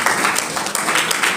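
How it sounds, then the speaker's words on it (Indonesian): Applause from a church congregation worshipping God, steady clapping that fills the whole moment at an even level, with faint voices mixed in. "Berikan tepuk tangan buat Tuhan."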